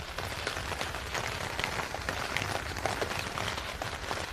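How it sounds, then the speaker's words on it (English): Steady, dense rain patters all around while walking along a street in Japan between Saitama and Kasukabe, a continuous close hiss of drops with no talking. "you can probably still hear the rain through the noise canceling"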